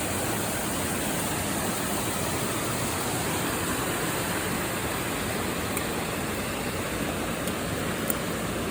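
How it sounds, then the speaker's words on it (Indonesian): Small mini waterfall beside a mountain trail on the Cibodas route between Gunung Pangrango and Gunung Gede, a steady broadband rush of falling water, close and constant with no talk over it. "Sebelah kiri ada air terjun mini."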